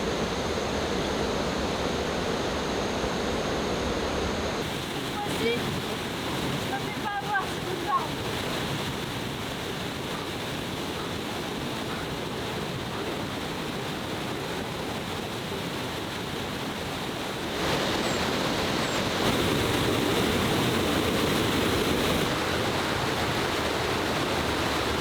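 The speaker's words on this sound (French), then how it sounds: "on vient d'arriver à la dernière cascade de la route numéro 3" Waterfall in the Amazon rainforest, a continuous broadband rush of falling water that steadily fills the scene, with faint voices briefly audible and wind noise buffeting the microphone.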